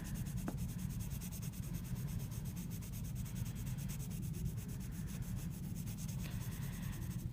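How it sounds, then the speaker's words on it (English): Pencil lead scrubs across paper in continuous scribbly shading strokes, a quiet, unbroken rasp heard close up with no speech. "I'm kind of using sort of a scribbly technique and I'm filling it in lighter and lighter as I go over."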